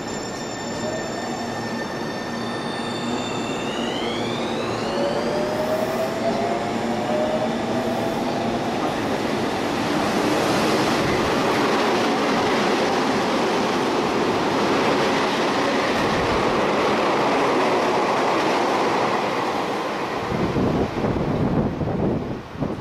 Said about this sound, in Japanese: 1番線を電車が通過いたします。